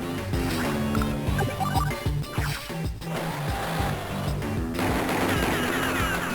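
Advance Wars 2 battle against a mech unit, with dense rapid gunfire and machine-gun bursts over a steady game music bed, continuous and loud for several seconds.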